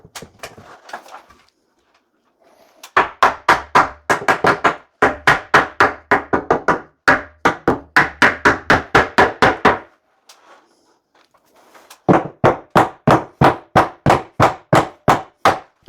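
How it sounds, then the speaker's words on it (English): Timber is hammered into position in a wall frame with loud, close hammer blows in quick rhythmic bursts. Several runs of about eight to ten strikes each are separated by short pauses, with a quieter stretch of shuffling at the start. "That way I can hammer it into position and it'll hold itself in place."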